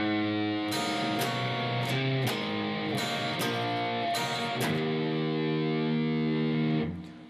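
Distorted electric guitar plays the verse of a blues-rock song slowly and deliberately, low bass-string notes and chord stabs ringing out alone with steady sustain before stopping near the end.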